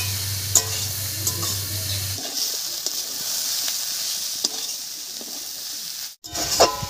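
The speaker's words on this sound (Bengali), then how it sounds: "এবারে বেশ কিছুক্ষণ রান্না করে একটু ভাজা ভাজা মতো করে নেব।" Cabbage fries in a pan with a little salt and turmeric, sizzling steadily up close with occasional stirring scrapes and a brief cut near the end.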